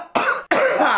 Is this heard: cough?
yes